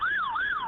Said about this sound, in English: you're being drowned out by the sirens